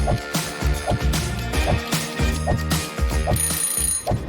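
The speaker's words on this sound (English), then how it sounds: "That's when the phone rang." A telephone bell rings in a steady repeating pattern, loud and close, with regular bursts about every half second and no voices.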